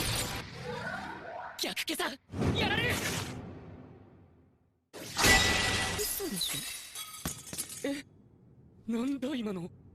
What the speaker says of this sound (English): Makoto overwhelmed Mitsurugi with his magic and shatter Sophia's legendary sword.